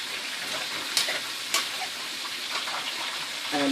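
Steady wet stirring and scraping as a rum mixture is folded into sweet potato and kale, a soft continuous swishing with two sharper knocks of the utensil against the pan.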